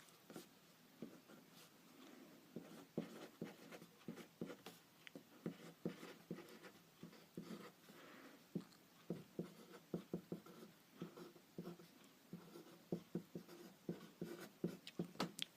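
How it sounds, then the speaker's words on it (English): A pen writes out a trigonometry formula on paper, making soft scratchy strokes and small taps in quick irregular bursts, close and quiet, with no speech. "So I will write out the formula for you quick."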